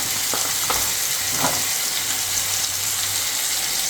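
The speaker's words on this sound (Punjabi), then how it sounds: "ਤੁਸੀਂ ਦੇਖ ਸਕਦੇ ਆ ਤੜਕਾ ਜਿਹੜਾ ਇੱਧਰ ਰੈਡੀ ਆ" Continuous loud sizzling and frying of a tadka tempering in a pan for okra curry, steady crackling hiss close by with faint stirring scrapes.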